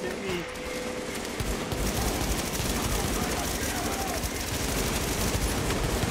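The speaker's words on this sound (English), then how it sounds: "Yep, he's shooting at me." Sustained automatic gunfire from The Division, rapid dense bursts of shots filling the whole stretch at close, loud level with no pauses.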